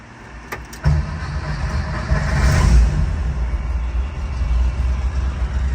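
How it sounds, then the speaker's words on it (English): A 1967 Volkswagen Bus engine cranks briefly and catches, then settles into a steady, rumbling idle close by. "Car fires right up and idles beautifully."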